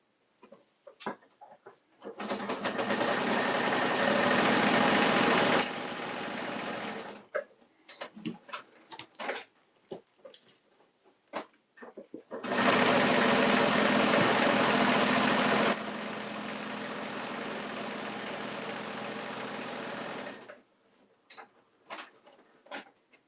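A sewing machine stitches a cosmetic bag in two long, steady runs of several seconds each, one changing speed partway, with short clicks and handling noises in the pauses between.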